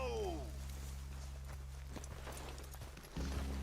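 Horse hooves clip-clopping in the western game Red Dead Redemption 2, steady soft clops over a low ambient rumble, with voices speaking briefly.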